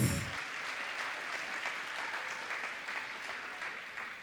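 Graduation audience at a Faculty of Commerce ceremony claps for the graduates, a dense, even wash of applause that begins with a brief louder burst and then carries on steadily for about four seconds at a modest, distant level.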